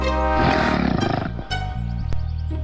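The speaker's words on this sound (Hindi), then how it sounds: "ये खर्राटों की आवाज है" A huge sleeping gorilla gives a deep, roaring snore, loud and close, rising into a rough rumble then tapering with short breathy grunts, with no voices.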